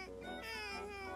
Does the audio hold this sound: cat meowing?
yes